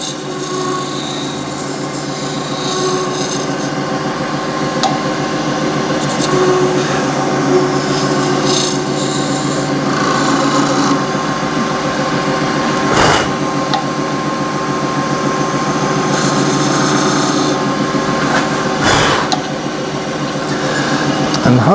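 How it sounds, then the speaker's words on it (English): A spindle gouge shapes a red resin shaving brush handle spinning on a lathe, a loud steady rasping cut over the hum of the machine with a couple of sharp knocks. "I'll use the wing of the spindle gouge and just shape that in there."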